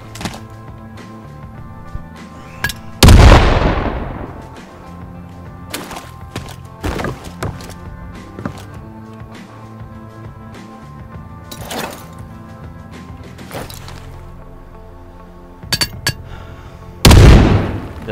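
A grenade detonates in the first-person shooter Battalion 1944 on the Manorhouse map, two loud broadband booms about fourteen seconds apart, with faint in-game ambience and small clicks between them.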